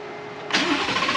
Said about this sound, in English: It's time to turn the car on and see what happens.